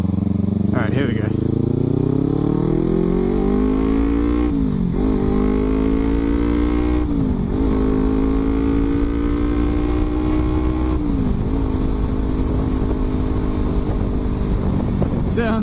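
A 2014 Kawasaki Ninja 300 with an MGP exhaust rides close by, its engine droning loudly and revving up through several gear shifts, with each shift briefly dipping the pitch over wind noise.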